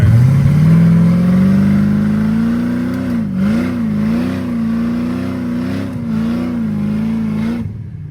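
A 1000 hp 427ci YSI-supercharged Corvette C5Z with a TH400 automatic accelerates hard in first gear, its engine note droning steadily and rising loud and close, wavering as it pulls, then cutting off abruptly at the end.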